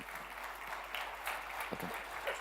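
Audience applause for a presenter at a morning talk on gamification: a soft, steady wash of clapping that stays faint and distant for the whole stretch, with no voices over it.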